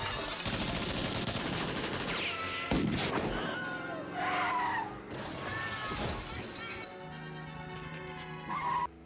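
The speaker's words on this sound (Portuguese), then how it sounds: "Então se inicia uma perseguição de carro pelas ruas da cidade, com direito a muitas coisas destruídas pelo caminho" A film car chase through city streets brings skidding tyres, crashes, shattering debris and gunfire-like bangs in a dense, loud, continuous mix with a music score underneath.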